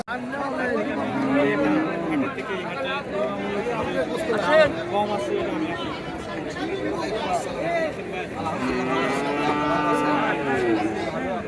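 Cattle moo repeatedly at a crowded Bangladeshi dairy cow market in Ishwardi, and long lowing calls rise over steady crowd chatter as people talk throughout.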